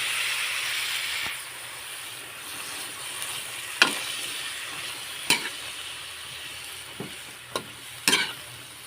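Ground meat with squash and string beans stirred in a frying pan, a steady sizzle under several sharp scrapes and clacks of the spoon against the pan, with no one talking.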